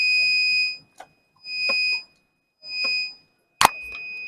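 A digital multimeter's continuity buzzer beeps in three steady, shrill tones of about half a second each with short gaps, close and loud, ending in a sharp click and a brief fourth tone.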